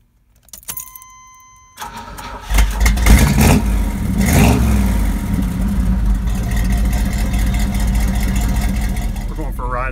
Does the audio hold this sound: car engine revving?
yes